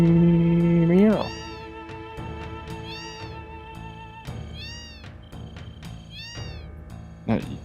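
The Final Fantasy VII cat meow sample: four short, high-pitched meows repeating at roughly even intervals. A voice imitates a meow at the start and talks faintly between them.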